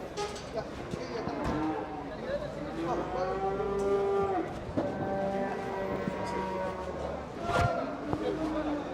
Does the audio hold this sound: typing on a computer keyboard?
no